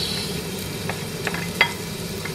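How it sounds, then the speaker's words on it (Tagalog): Garlic sautéing in a pan, a soft steady sizzle close by with a few light clicks of a utensil and one sharper tap, no talk. "Sauté natin yung garlic, ahos."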